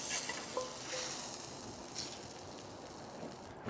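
A utensil scrapes charred, crusty provolone and grilled zucchini off the bottom of a hot pan, a short burst of close scraping over a soft sizzle.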